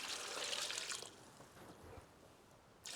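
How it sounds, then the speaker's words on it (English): Cold water pours from a jug into a stock pot full of vegetables and aromatics, a bright splashing gush for about a second, then quieter trickles and drips before another pour begins. "And now all we need to do is put cold water on this."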